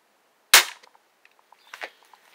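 An air gun fires a standard budget pellet into a metal can, giving one sharp, loud crack followed by faint light ticks and a small metallic knock, with no voices.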